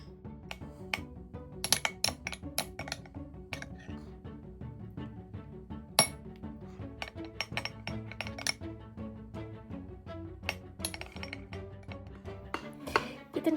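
Spoon clinking against a bowl while gochujang ingredients are stirred, a series of sharp irregular taps and scrapes at close range, fairly quiet, ending with a brief clatter.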